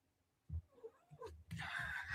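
A small female kitten meows several times in short, close bursts, including a drawn-out cry, indoors with light background noise.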